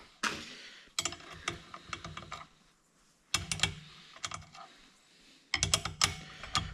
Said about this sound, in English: then we will use our 12mm spanner.